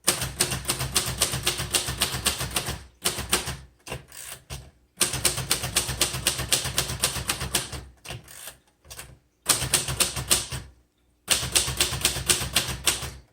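Uppercase letters typed on a green 1973 Royal Sabre portable typewriter: bursts of rapid, close mechanical key strikes in a steady rhythm, separated by short pauses and quieter clacks.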